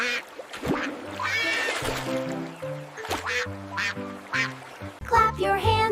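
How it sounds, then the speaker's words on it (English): A cartoon duck gives a run of bright, nasal quacks over a bouncy children's song with music throughout. "Duck makes funny quacky sound."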